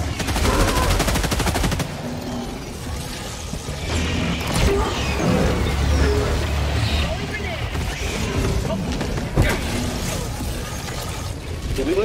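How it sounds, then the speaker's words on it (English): Chaotic firefight in the video game Helldivers 2, with rapid machine-gun bursts and repeated gunshots continuing throughout, a grenade thrown amid the shooting, mechanical clatter and occasional sharp impacts layered with voices. "Throwing grenade!"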